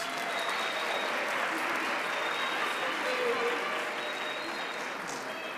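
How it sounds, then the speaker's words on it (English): Audience at a technology launch event for people with disabilities applauding a choir, dense continuous clapping with crowd murmur, steady and fairly loud throughout. "Can we give the choir a round of applause?"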